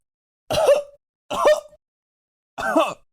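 Three separate harsh coughs, close and fairly loud, with short silences between them; the coughs sound forced and voiced, almost like throat clearing.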